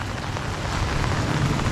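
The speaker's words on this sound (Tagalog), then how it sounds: "Maulan kasi." Steady rain pours outdoors during a typhoon, a dense, even hiss of drops with low rumbling underneath, continuous and fairly close with no voices.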